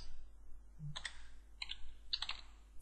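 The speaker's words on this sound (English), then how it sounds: "now we need to type ren, which is rename, and then we need to type in their system," Keys clatter on a computer keyboard as a rename command is typed at a Windows recovery console, three quick bursts of close, crisp clicks in a quiet room.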